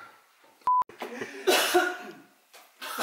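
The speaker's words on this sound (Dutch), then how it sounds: "Ze hoesten de hele tijd door mijn intro" Coughing from people in the room during a vlog intro, a few rough bursts after a short electronic beep, with faint background talk.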